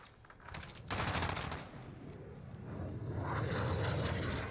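In the Modern Warfare video game, a jet aircraft roars overhead as a broad rushing swell that builds toward the end, mixed with bursts of distant gunfire.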